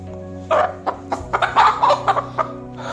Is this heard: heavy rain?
no